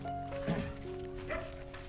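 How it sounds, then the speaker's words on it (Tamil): Dog barks from a Rajapalayam-type puppy setting: a couple of short, faint barks stand out near the middle and end of a brief, quiet stretch with a steady tonal hum underneath. "அழகான நாய்."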